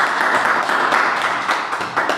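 A church congregation applauds with dense, steady clapping that stays loud and close throughout, with no voices standing out.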